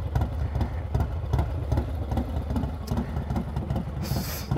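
Motorcycle engine idling at night, a steady low rumble with a continuous throbbing pulse close by, running alone without talk.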